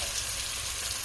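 Shiitake mushrooms sizzle in a pan over high heat, a steady close hiss of frying without talk, ending on a short sharp knock.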